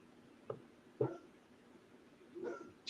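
A dog barks indoors in a few short, separate yaps spread over a few seconds, fairly faint against a quiet room.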